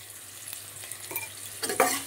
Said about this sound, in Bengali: পেঁয়াজ, টমেটো, রসুন, কাঁচা লঙ্কা, শুকনো লঙ্কা সব ভালো করে আমি ভেজে নিচ্ছি।